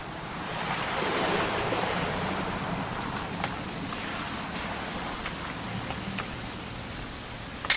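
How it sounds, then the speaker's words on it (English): Steady rain in the video game What Remains of Edith Finch pours down with a soft, continuous hiss, occasional distinct drops pattering nearby, and no voices. "It's gonna rain the whole weekend,"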